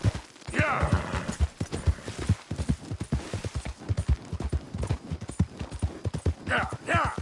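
Rapid, steady hoofbeats of a galloping horse in Red Dead Redemption 2, close and rhythmic for several seconds, with a rider urging it on and whooping over the pounding.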